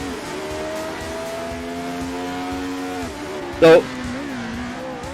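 Engine of a 1975 Hesketh Formula 1 race car in the Assetto Corsa racing game, a steady loud high-revving drone that drops in pitch partway through, with a brief sharp burst near the end and someone talking over it.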